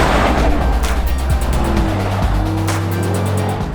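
Aston Martin DBX SUV with a twin-turbocharged Mercedes-AMG derived V8, driving hard with a loud engine roar that shifts pitch as it revs and changes gear, with brief tyre-squeal-like accents, close and alone.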